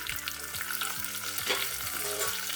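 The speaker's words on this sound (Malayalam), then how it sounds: "കടുക് എണ്ണയിൽ കിടന്ന് നന്നായി മൂത്ത് പൊട്ടി വരുമ്പോൾ അതിലേക്ക് കറിവേപ്പിലയും ചുവന്ന" Mustard seeds, curry leaves and dried red chillies sizzle in hot oil for a Kerala curry tempering, a steady close frying crackle with a few soft stirring touches and no talking.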